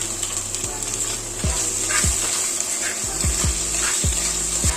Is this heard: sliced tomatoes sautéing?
yes